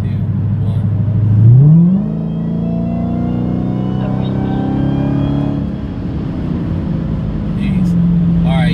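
A Dodge Demon accelerating hard from 55, its engine note climbing steadily in a loud, sustained surge before easing off, heard from inside the car.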